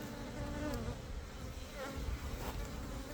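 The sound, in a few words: honey bees buzzing in a hive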